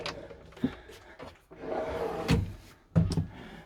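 A storage drawer in a 2023 Adria Coral Supreme 670 DL motorhome slides and knocks shut in a few short wooden thuds, close and moderately loud, with quiet rustling between them.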